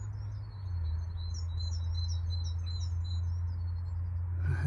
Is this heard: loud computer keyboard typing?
no